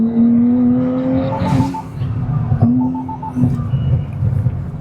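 A 2025 Nissan Z on a track pulls gently in a high gear, its engine giving a close, steady drone that rises slowly in pitch, with faint mechanical rattles and no talking.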